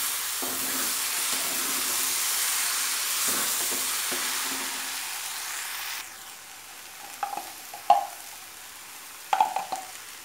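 Garlic and chopped green chillies, added with onion for a jackfruit curry, sizzle steadily in a hot pan. The frying then quiets, and a few sharp clinks of a spoon against the pan follow.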